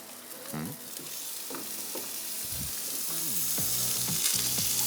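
A frying pan sizzles with butter melting, a steady hiss that grows slightly louder, broken by occasional scraping knocks of stirring.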